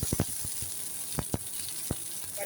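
Mustard seeds and curry leaves crackle in hot oil for an egg curry, a sizzling hiss broken by a series of sharp pops and spits at irregular intervals, close and fairly loud.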